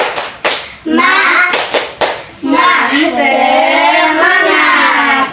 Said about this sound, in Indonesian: mari kita memulai tepuk semangat terlebih dahulu